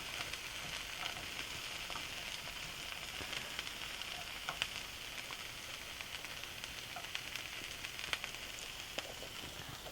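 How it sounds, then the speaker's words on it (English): Onions and green peas fry in a pan, a faint, even hiss of sizzling oil with scattered tiny pops running steadily throughout, no voices. "while the green peas and the onions are being fried"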